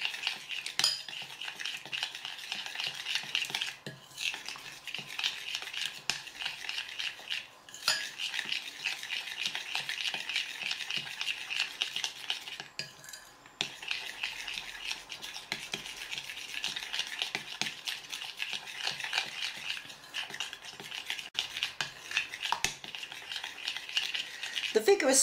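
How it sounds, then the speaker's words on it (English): Melting chocolate stirred vigorously during tempering, giving a continuous brisk scraping of a utensil against a bowl, fairly quiet and steady throughout with brief pauses. "vigorous stirring not only helps cool the mixture a little more quickly"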